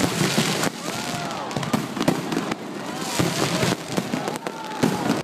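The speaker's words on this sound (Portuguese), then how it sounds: "os fogos de artifício" New Year's Eve fireworks crack and boom repeatedly, sharp bursts popping over a steady hiss, with faint whistles and crowd noise in the distance.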